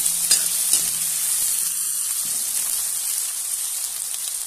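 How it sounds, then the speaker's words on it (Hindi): Chopped onions fry in a pan until brown, giving a steady hiss with a few scraping stirs near the start. No one speaks. "इसमें डाल देते हैं हम प्याज कटा हुआ, प्याज को थोड़ा सा हम ब्राउन होने देते हैं"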